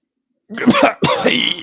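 After a moment of silence, someone gives two rough, close coughs in quick succession, loud and raspy.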